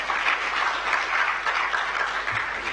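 A crowd at a medical conference gives a steady round of applause, a close, continuous hiss of many hands clapping with no speech over it.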